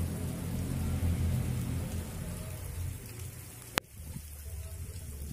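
Heavy rain pours down steadily at a construction site as a dense, loud hiss that thins slightly toward the end, broken once by a sharp click.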